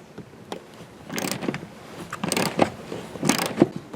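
Hand wrench ratcheting as it loosens nuts inside a 1980s IROC-Z Camaro during interior removal, several short bursts of clicking with soft handling noises between, fairly close.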